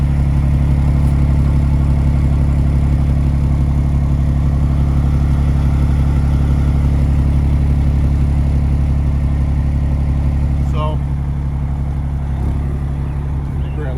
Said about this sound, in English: looks like we lost the exhaust